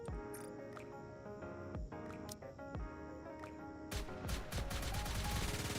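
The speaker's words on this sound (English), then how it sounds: "minigun" Minigun firing in a video game, a stream of rapid shots over background game music that grows denser and louder near the end.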